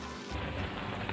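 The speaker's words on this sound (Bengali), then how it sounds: "বড়িটা দিয়ে দিলাম, একটু নেড়ে দিলাম" Bori, Bengali sun-dried lentil dumplings, hit hot oil in a pan and are stirred, giving a dense, steady crackling sizzle like rain, close and continuous without pause.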